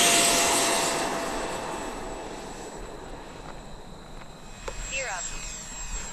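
A model T-7A jet with an 80mm ducted fan runs at forward thrust, giving a steady high-pitched whine with broad rushing noise that slowly fades. Someone speaks over it.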